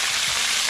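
Food fries in hot cooking oil, a continuous bright crackling sizzle heard up close and loud, alone without voices.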